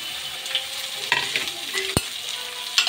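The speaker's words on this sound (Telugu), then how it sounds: "చూడండి, ఆనియన్స్, పచ్చిమిర్చి అయితే వేసేస్తున్నాను" Chopped onions and green chillies sizzle in a hot pan for a South Indian chutney, a steady frying hiss broken by scraping stirs and a sharp clink of the spatula.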